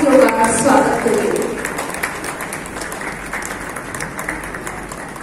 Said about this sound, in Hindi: जोरदार तालियों से आप अतिथियों का स्वागत करें।